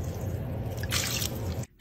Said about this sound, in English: She just poured the cheese rinse in there.